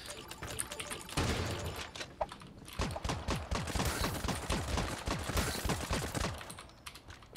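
Rapid gunfire in an anime-style Fortnite-like battle royale game, dense bursts of sharp cracking shots in quick succession, fairly close, with brief pauses between volleys and no talking.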